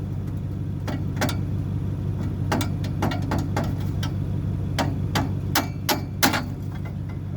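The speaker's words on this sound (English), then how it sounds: "We'll engage the good help of our friend Mallet." A mallet strikes metal car parts while an exhaust is removed from a vehicle during a desert expedition repair, giving sharp irregular clangs and knocks over a steady low engine-like hum.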